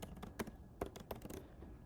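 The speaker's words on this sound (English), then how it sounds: "I'm typing hello honey." Keys clatter on a computer keyboard while a short phrase is typed into a Word document, a quick uneven run of close, crisp clicks with a few louder strokes and no talk.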